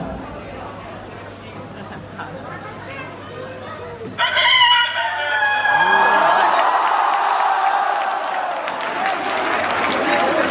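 A performer's voice imitates a rooster crowing at dawn at a college mimicry show, one long drawn-out crow ringing loudly over a murmuring crowd, after a stretch of talk.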